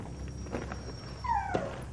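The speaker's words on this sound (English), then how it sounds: "darting deeper into the cave, barking and whimpering in distress" A dog whimpers and yips in distress deep inside a mine cave, with thin high whines and a couple of short sharp cries rising over a low rumbling background.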